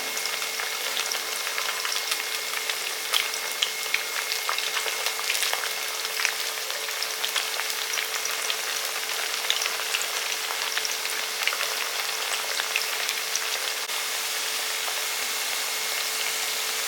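Raw plantain slices, skin left on, frying in hot oil for a Tamil plantain fry, giving a steady, even crackling sizzle that runs unbroken throughout with no voices.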